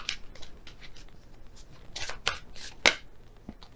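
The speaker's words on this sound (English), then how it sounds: "So I'll shuffle again and see which one comes out." Tarot cards being shuffled by hand, with soft, quiet riffling and rustling in several short bursts and a sharper card snap near the end.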